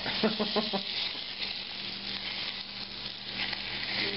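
Wild-caught salmon fillet dropped into very hot browned butter in a pan, a loud steady sizzle and crackle with a few soft stirring knocks at the start, no talking.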